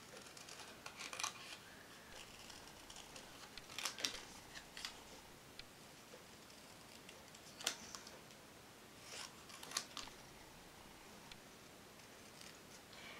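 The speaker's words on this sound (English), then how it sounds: "I'm just cutting as close to the image that I can." Scissors snip close around a printed paper image, giving faint, sparse crisp cuts spaced a few seconds apart over a quiet hiss, with no talking.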